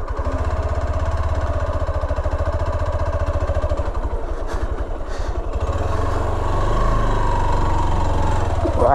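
A motorcycle engine runs steadily and loud up close as the bike rides a rough, rocky off-road track to a hill temple near Kurnool, the throbbing revs shifting slightly partway through, with no talking.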